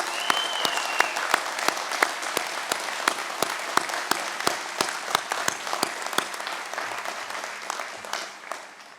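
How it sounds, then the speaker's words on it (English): An inauguration audience gives the event staff a round of applause, dense and steady clapping filling the hall with a few louder sharp claps and a faint whistle early on, before it tapers near the end. "Would you please join me in a round of applause for them?"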